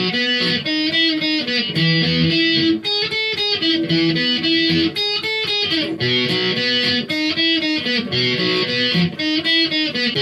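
Guitar solo, a dense lead line with bending melodic notes over continuous distorted backing, loud and sustained for about ten seconds without speech.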